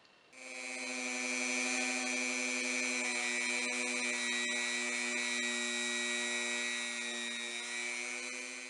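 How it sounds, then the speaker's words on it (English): A rotary tool spins folded sandpaper against a Ruger Mark III 22/45 magazine follower button, a steady high-pitched whine starting abruptly and holding nearly constant for several seconds, close and alone. "we actually have it chucked directly into the rotary tool. Now we can take a section of sandpaper that's folded in half and polish this channel"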